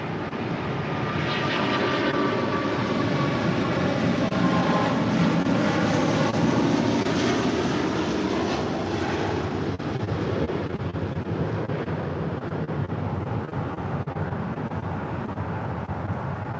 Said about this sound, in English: Emirates Flight 216 Super departing to Dubai on the A380.